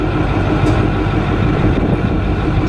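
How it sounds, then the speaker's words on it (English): A 2008 Ford F350 Super Duty King Ranch with a Powerstroke diesel idles steadily, its exhaust a low, even rumble held close and loud without change throughout. "Give you a little bit of exhaust clip here."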